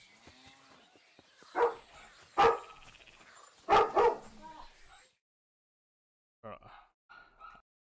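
A dog barking indoors near a computer playing a medieval role-playing game, several sharp barks spread over a few seconds, mid-loud, with a few faint yips after a pause.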